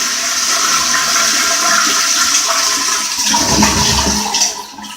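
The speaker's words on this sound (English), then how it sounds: "just flush the toilet." A toilet flushes loudly and close by, a long rushing surge of water that tapers off near the end.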